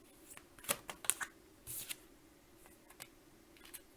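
Tarot cards are shuffled for a reading, giving quiet, close papery riffles and snaps in short irregular bursts, with soft rustles between them.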